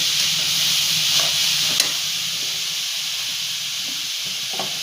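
Milk poured into a hot pan of sautéed grated carrots for halwa sets off a steady broad hiss and steamy sizzle throughout, with a couple of faint clicks, and no voices.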